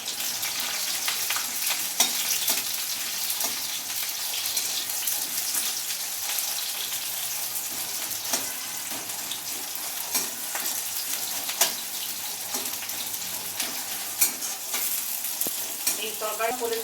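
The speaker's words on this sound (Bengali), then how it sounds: "তেলের উপর আমি পেঁয়াজগুলো দিয়ে দিচ্ছি" Onions fry in white oil in a wok for Punjabi bhindi chole masala, producing a continuous dense sizzle with scattered crackles and brief stirring scrapes, loud and close throughout.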